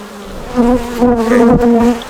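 Honey bees buzz close up in an opened hive, a loud, steady droning hum that swells slightly and holds for a couple of seconds.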